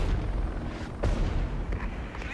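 Czechoslovak artillery firing in the Cold War RTS game Regiments, a dull booming rumble with a few sharper distant thumps over a steady low battle background.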